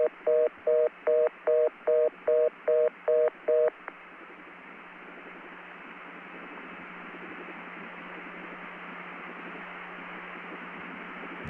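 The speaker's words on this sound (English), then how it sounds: "I got my CCSA dial tone," CCSA telephone trunk line from 1980: a quick run of about nine even touch-tone beeps, then a steady, hissy dial tone with a low hum that continues to the end.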